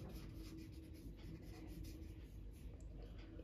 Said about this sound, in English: Now you have to write down breakup